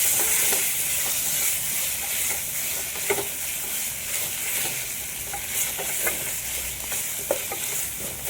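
Ginger paste frying in a pan while a jackfruit curry is cooked, a continuous close hissing sizzle broken by scattered spatters and light stirring clicks, with no voices.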